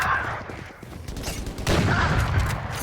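Rapid bursts of gunfire in the Valorant video game, dense and loud over game ambience, with a sharper flurry of shots partway through.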